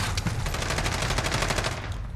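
Rapid automatic fire from a FAMAS rifle in Call of Duty Modern Warfare, a dense continuous burst of close, loud shots lasting about two seconds with no talking.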